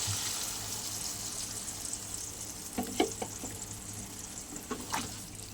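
Water poured into a pot of papaya, potato and prawn curry, a soft steady liquid wash with a few brief splashy bursts near the end, fairly quiet and close, no voices.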